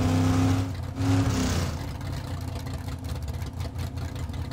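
A muscle car in the Teardown video game revs loudly in two strong bursts with a deep harmonic growl, then settles into a lower, steady burbling idle, close and alone with no talk.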